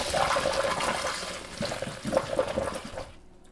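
Star San sanitizer is poured slowly into a chemically resistant spray bottle for homebrew sanitizing: a steady, close splashing and gurgling of liquid runs for about three seconds, then cuts off into near silence.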